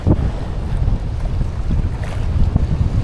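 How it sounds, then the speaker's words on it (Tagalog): Strong wind buffets the microphone on a Philippine island shore at low tide, a loud continuous roar with surging gusts and the wash of surf behind it, no voices. "Malakas yung hangin."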